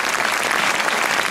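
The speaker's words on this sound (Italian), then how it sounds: "Se senti questo applauso" Steady, dense applause from a crowd at a street rally in L'Aquila, loud and continuous throughout with no voices standing out.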